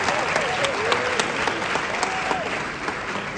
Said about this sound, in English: Let's clap our hands for Professor Naana.